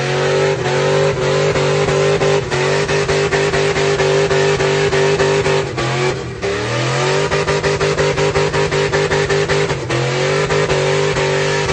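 A brown truck's engine revs hard and continuously during a small tire burnout, loud and close, with a rapid pulsing exhaust note and a brief dip in the middle before it roars on.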